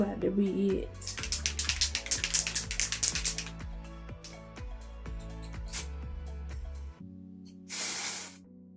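A temporary pink hair color spray lets out a single close, one-second hiss near the end, after a long stretch of steady background music.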